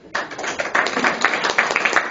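A small room audience at a comedy gig claps in a brisk, close round of applause that starts abruptly and continues unevenly, fairly loud, without speech over it.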